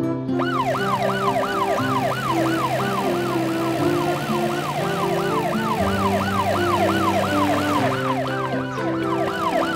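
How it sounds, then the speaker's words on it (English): A wailing ambulance siren sweeps up and down in a fast, repeating rise-and-fall pattern over steady tones, loud and close throughout. "The ambulance is coming out of the helper car's garage."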